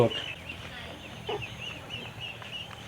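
A chicken gives a few soft clucks against a low, steady background, with a louder sound at the very end.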